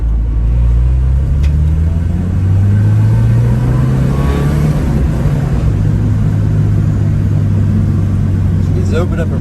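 A Porsche 924S runs while driving, its engine droning loud and close inside the cabin and rising and falling in pitch as it revs, with people talking over it.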